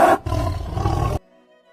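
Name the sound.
lion roaring loudly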